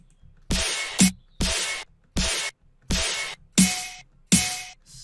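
A hard-hitting, slightly distorted electronic snare sample, struck seven times in a steady pattern with short gaps of silence between the loud, bright crashes.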